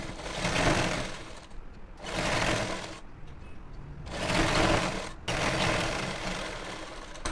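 A sewing machine stitches a gathered pant seam in bursts, three or four loud runs of rapid whirring separated by short quiet pauses, close and with no talking.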